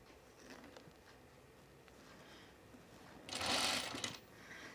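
Sewing machine running a rolled hem on a curved blouse edge through a roll hem foot, a faint soft whirr with a louder burst of stitching near the end, heard alone.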